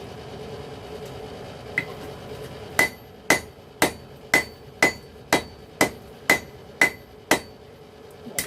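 Steel is hammer forged into a tapered Kraken tentacle, with about a dozen sharp, ringing blows landing up close in a steady, even rhythm after a couple of lighter taps.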